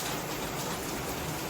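Steady rain in Manila, a dense, continuous hiss of falling drops at constant loudness with no voices.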